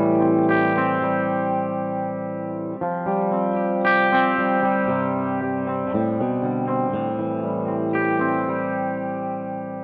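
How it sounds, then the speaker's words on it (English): Guitar chords ring through two amps with a swirling chorus-like modulation, sustained and wobbling, with a few chord changes and no talk. "So you hear that really just kind of swirly thing going on between the 2 amps"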